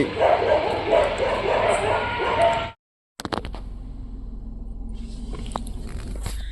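Several dogs bark repeatedly and loudly up close, followed by a pause, then quieter scattered yips and sounds.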